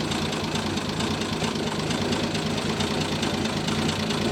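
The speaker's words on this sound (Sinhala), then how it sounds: "සිලින්ඩර් 6ක් තියෙන එන්ජින් එකක්." A six-cylinder classic car engine fitted with twin SU carburettors runs steadily nearby, giving a continuous loud idle with a slight knocking rumble and no pauses.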